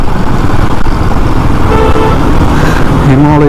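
Loud, dense road traffic heard from a Himalayan motorcycle: constant engine and road rumble with wind, and car horns sounding near the middle and again at the end.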